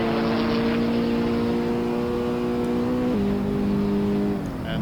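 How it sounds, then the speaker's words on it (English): A racing car engine in the video game Assetto Corsa holds a loud, steady whine on a hot lap, its pitch dropping sharply at one point as the car shifts gear, then continuing strongly. "as Benani starts his hot lap"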